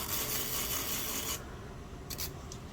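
A close, rough filing rasp with a sanding band on a gel nail for about a second and a half, then stops, followed by a couple of brief light scrapes.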